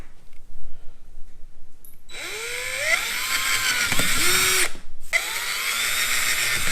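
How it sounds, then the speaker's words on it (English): A power drill bores holes into a kayak hull while an anchor trolley system is fitted, with two close, loud bursts of high whining drilling separated by a brief pause. "You don't need to put a crazy amount of pressure when you're drilling the holes in your kayak."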